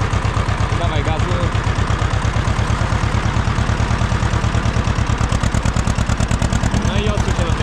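A tractor engine running steadily while sowing barley, heard close and loud as a fast, even chugging pulse throughout, with people talking faintly over it.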